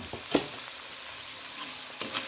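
Marinated chicken frying in a pan, giving a continuous close hiss of sizzling oil with two brief knocks of a stirring utensil and no speech.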